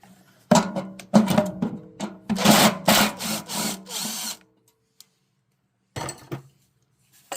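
Power drill backing screws out of a Lennox furnace blower motor, running in several short whirring bursts close by, with metallic clinks between them and a brief final burst after a pause.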